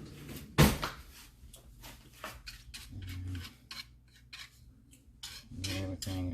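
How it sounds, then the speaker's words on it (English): A metal whisk beats eggs into sweet potato pie filling in a bowl, making a quick run of close, bright clinks and taps, with one sharper knock near the start. "this is when I'm going to get my whisk out"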